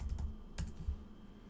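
Keys on a computer keyboard clack in a quick burst as an npm install command is typed, close and fairly quiet, with a few spaced taps and no speech.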